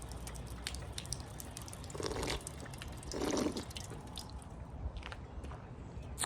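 A push-button drinking water fountain in a park runs with faint dripping and splashing. Two short gushes of flowing water stand out over quiet outdoor background.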